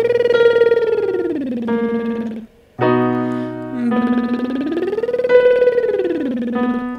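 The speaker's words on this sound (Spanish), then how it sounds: "el trino de labios. Este ejercicio suena así." A singer does a lip trill vocal exercise, buzzing through the lips while the pitch glides up and down between chest and head register, over a steady accompaniment, with a short gap midway.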